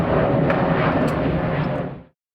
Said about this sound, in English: Only a passing EasyJet flight to Luton can throw him off.